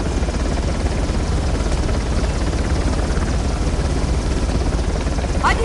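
A helicopter in the Uncharted game thunders with steady, dense rotor wash and engine roar, loud and constant throughout with no break.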